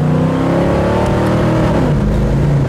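A 1969 Chevelle convertible's engine revs loudly and continuously, its rumbling tone rising slightly, close and unaccompanied by speech.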